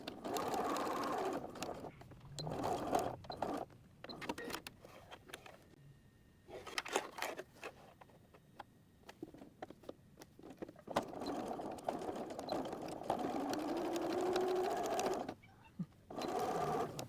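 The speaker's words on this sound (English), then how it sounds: "I'm just going to start right here and stop right here, back stitching at the beginning and end" A sewing machine stitches a quilted notebook cover in close, rapid mechanical bursts with short pauses between runs, including brief backstitching, and no talking over it.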